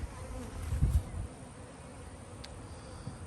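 Honeybees buzzing around an apiary hive make a low, steady hum that swells briefly near the start, with soft wind noise in the background.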